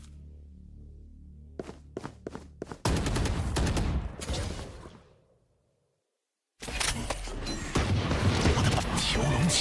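Gunfire in a Valorant match, with a few sharp separate shots, then a dense burst of rapid fire that fades to silence and resumes with more shooting. An excited commentator talks throughout.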